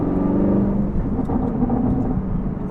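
A Chevrolet Camaro SS 1LE engine cruises in third gear at moderate revs, a steady, loud low drone with a smooth hum from inside the car.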